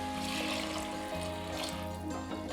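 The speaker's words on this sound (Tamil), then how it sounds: "இப்போ இது கூட ஒரு 250 ml அளவுக்கு தண்ணி விட்டுக்கலாங்க." Water is poured into chickpea masala gravy, a soft, close trickle and splash lasting a couple of seconds, fairly quiet with no talking.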